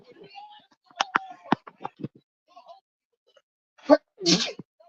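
A loud sneeze bursts out after some quiet, scattered sounds, followed by a short breathy exhale.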